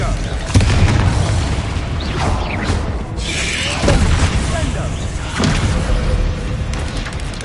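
Booming fire-spell explosions burst repeatedly amid dense combat noise in the Hogwarts Legacy video game, loud and continuous, with voices shouting spell names over the clamour.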